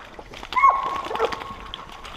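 A dog whimpers and whines in a swamp during a hog hunt, a high, wavering cry rising briefly over faint background movement and rustling.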